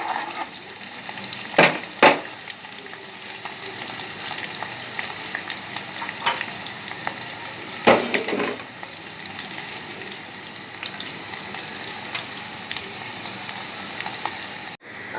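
Oil crackles steadily in a tadka for dal as spices brown lightly, with a few sharp louder pops and stirring clinks, close and alone without speech.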